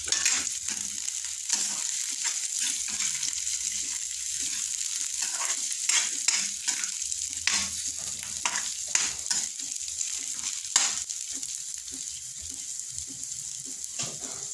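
Freshly picked sponge gourd sautéed with shrimp sizzles steadily in a pan, with frequent scraping and clattering strokes of a stirring utensil over a continuous bright hiss.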